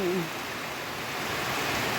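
Steady rain pours down outside a home during heavy seasonal downpours that have nearly flooded the house, a broadband hiss holding even and continuous throughout, with a brief faint tonal sound at the very start.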